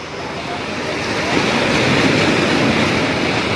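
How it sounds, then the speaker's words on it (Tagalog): Large waves surge and wash at a marina in Manila during a fishing trip, a loud, continuous broadband roar that swells slightly and then holds steady. "Laki ng alon ah."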